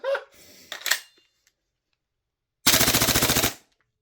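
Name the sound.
Tokyo Marui MWS airsoft gas blowback rifle firing full auto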